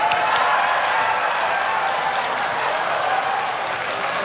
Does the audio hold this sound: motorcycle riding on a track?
no